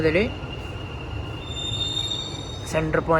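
A Dubai Metro train on the Green Line hums and rumbles at a station, with steady high tonal whines from the carriage and doors. Voices break in briefly at the start and end.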